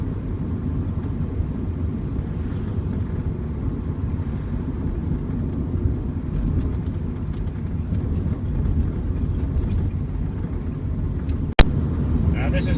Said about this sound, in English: this is cruising along at 60 k's just with an even throttle